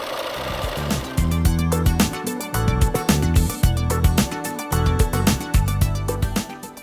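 Domestic sewing machine stitching horizontal quilt seams, a close, loud whirring run in repeated bursts with brief stops between them.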